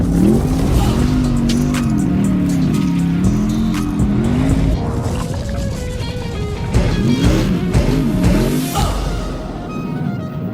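A GT3 race car prepared for the Nürburgring 24 Hours roars loud and close, its engine revving up and down through gear changes with tires squealing, a continuous aggressive run.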